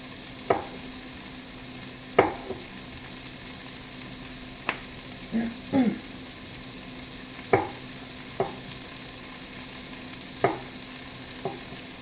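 Garlic frying in a pan beside onions, a low steady sizzle broken by a dozen sharp spatula scrapes and clacks spaced every second or two.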